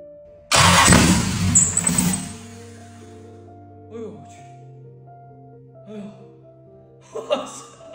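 A V8 car engine cranks and catches loudly near the microphone, then quickly dies back to a low idle-like hum, followed by a few faint knocks and a brief burst of noise at the end.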